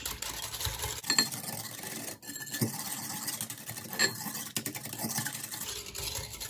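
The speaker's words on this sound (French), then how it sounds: "Vous mettez l'eau tiède avec la levure chimique. Vous mélangez. Hop, on mélange, on mélange." A spoon stirring lukewarm water and baking powder in a glass, making rapid, steady scraping and clinking with brief pauses, close and fairly loud, with no voices.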